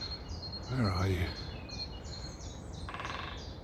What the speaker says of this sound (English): listen to that bird song, it's lovely